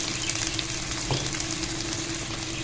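Spice masala for sarson ka saag frying in a pan, with salt and turmeric added: a constant close sizzle and crackle, with a brief stirring scrape midway.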